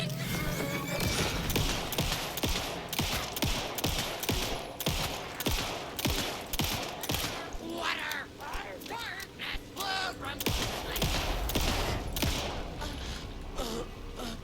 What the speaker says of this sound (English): Oh, so they took a lot of pistol shots.